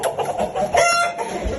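Roosters and young chicks cluck and chirp close by in a short, busy burst of overlapping calls, including high peeping notes; no speech.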